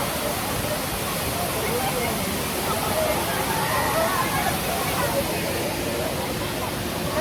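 A waterfall at Mussoorie roars in a steady, dense rush of falling water that fills the whole scene. Faint voices can be heard underneath.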